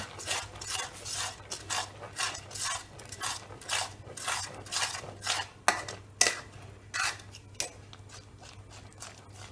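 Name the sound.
mixing pasta mix into thick sauce in a pan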